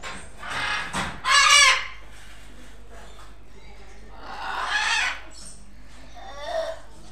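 A blue-throated macaw (Wagler's macaw) gives a few loud, harsh squawking calls, with quieter calls in between against a soft background.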